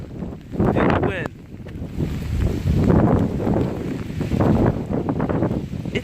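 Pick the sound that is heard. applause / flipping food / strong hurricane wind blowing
strong hurricane wind blowing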